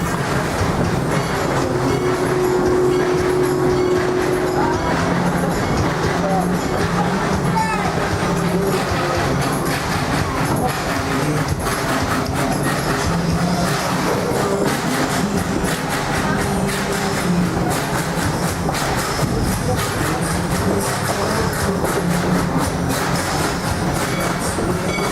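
Ride aboard the Miami Valley Railroad amusement-park train at Kings Island, with steady wheel rumble and clickety-clack on the rails throughout, a brief tonal squeal early on, and faint voices in the background.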